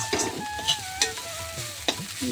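Flattened rice being fried and stirred in a pan for chira halwa, with a steady close sizzle broken by several sharp scrapes and clinks of a utensil against the pan.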